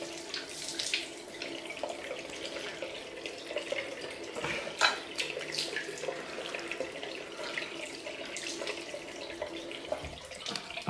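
A tap runs steadily into a sink as cold water rinses off after a head shave, a continuous near splashing wash with occasional louder splashes and no talking.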